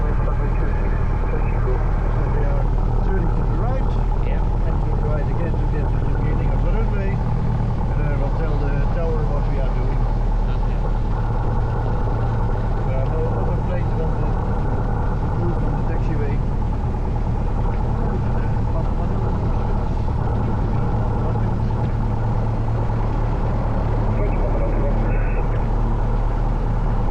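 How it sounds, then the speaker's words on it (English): A small plane's engine drones steadily as it taxis toward the start of the runway, a constant low rumble heard from inside the cockpit with voices talking over it at times. "we taxi to the beginning of the runway"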